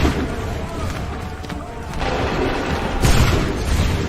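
A musket volley in Assassin's Creed III bursts as a loud, dense crash of massed shots, with a sharper surge near the end over rumbling battlefield noise.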